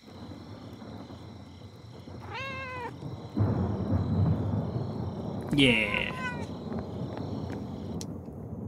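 Two distinct video-game cat meows ring out over a busy game soundtrack while a cat is being petted, the second louder and more drawn out, with a person talking briefly.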